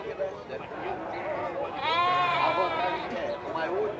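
Goats and sheep bleat at a livestock fair in Campina Grande, Brazil, with a clear wavering bleat rising midway among crowd murmur and someone talking over the animals.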